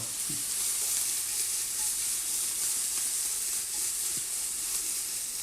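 Peppers and sauce ingredients browning in a frying pan give a steady, dense sizzle and hiss, close and continuous, with a few faint stirring knocks.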